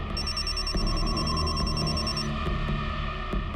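A telephone rings indoors with repeated electronic bell-like trills that carry clearly over a low background and then break off.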